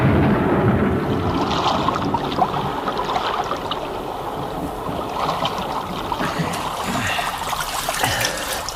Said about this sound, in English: One drink before we swim the moat.